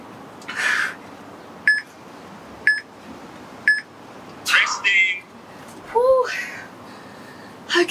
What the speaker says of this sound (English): When you hear that beep, don't start giving up.